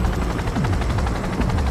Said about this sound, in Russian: Подождать, пока вертолет снизится.